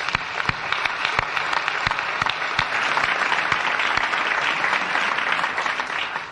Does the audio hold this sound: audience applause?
yes